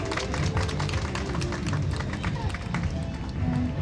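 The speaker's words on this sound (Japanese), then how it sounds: "彼女に大きな拍手を" A seated audience at a music festival gives dense, continuous applause, with many hands clapping loudly and evenly throughout.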